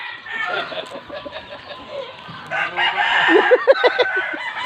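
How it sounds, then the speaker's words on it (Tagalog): A rooster crows close by, its drawn-out call rising and breaking into choppy notes, with some clucking around it. "Yan ang manok ni Boss Toto sa bistik."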